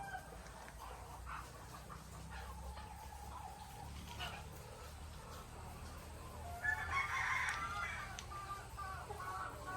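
Layer hens fill a farm layer building with steady clucking and calls, and a crow rises near the end over a continuous background hum.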